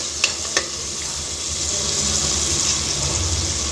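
Tempered spices and tomato fry in a pan for a mutton kola urundai kuzhambu, a continuous close sizzle that follows two quick utensil knocks at the start.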